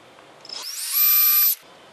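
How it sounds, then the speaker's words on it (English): A power drill drilling pilot holes whirs up to a high, steady whine for about a second, then spins down, close and loud with no talking. "So now we're going to drill some pilot holes."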